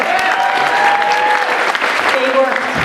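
Audience at a synagogue journal dinner breaks into sustained applause, dense clapping from a crowd, continuous and fairly loud throughout.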